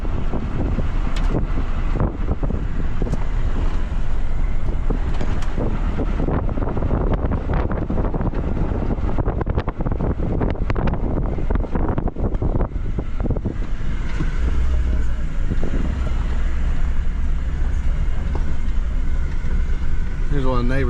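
Strong, steady wind of about 15 to 20 mph buffets the microphone in open farm country beside a wheat field. The roar is continuous and loud throughout, with low rumbling gusts and no clear speech.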